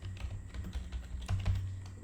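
Someone types very fast on a computer keyboard, entering a web link: a quiet, steady patter of key clicks over a low room hum.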